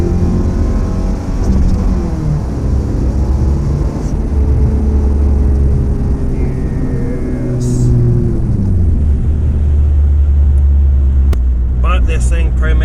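A 1996 Ford Ranger driving and shifting, heard from the cabin: the engine note climbs, drops at gear changes and climbs again, loud and continuous, with brief talk over it.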